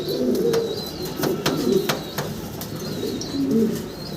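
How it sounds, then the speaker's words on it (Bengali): Pigeons coo at a pigeon farm in soft, repeated low calls, several birds overlapping steadily, with occasional sharp clicks and faint chirps nearby. "অসাধারণ সুন্দর একটা পেয়ার এবং নতুন কবুতর"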